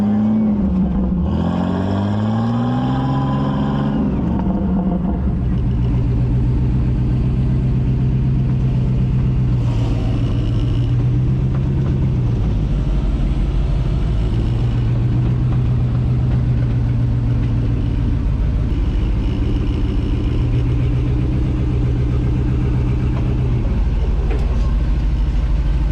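The Steel Soldier off-road vehicle climbs a rock obstacle called The Fallen with a loud, close engine that revs hard, sags and repeatedly rises again in long surges over a constant heavy rumble.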